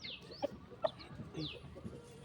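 Aseel hens, some sitting on eggs, cluck softly nearby, a few short clucks scattered through, with faint squeaky bird calls in a quiet farmyard.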